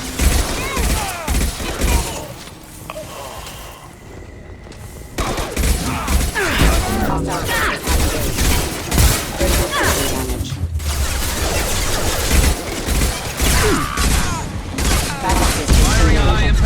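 A chaotic firefight in the video game Mass Effect 3: dense bursts of automatic gunfire, crashing impacts and mechanical clatter, loud and nearly constant, with brief radio-style voices mixed in.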